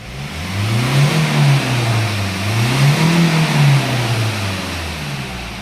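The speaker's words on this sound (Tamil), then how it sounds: "வண்டி ரேஸ் பண்ணுறேன்" A Hyundai Creta BS6 car engine with sensor problems revs up and down in repeated swells, loud and close, with the pitch rising and falling several times and no talking.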